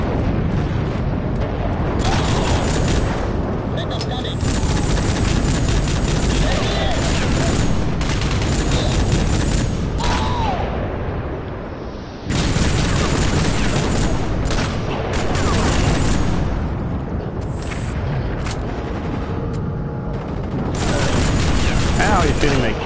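Loud, dense gunfire in the video game Rogue Trooper Redux targets the player, with rapid bursts and booms rolling almost continuously and one brief lull midway.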